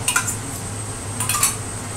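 A spoon stirs and scrapes a pot of mutton with marinade and sour curd over low heat, giving a few soft metallic clinks in two short clusters.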